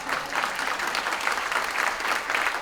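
Audience at a booksellers' convention panel applauds steadily, a dense, loud wash of many hands clapping close by with no talk over it.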